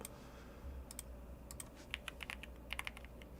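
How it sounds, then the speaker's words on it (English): Typing on a Bubble 75 computer keyboard produces a steady run of light, close key clicks with a few sharper taps, over a constant low background hum and no talking. "It's a Bubble 75. That's the name of the keyboard."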